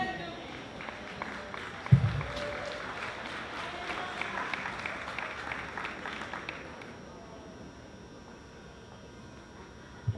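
A crowd at the Camden High School graduation ceremony in 2016 applauds in a sustained, fairly distant wash of clapping with voices mixed in, thinning out after about seven seconds.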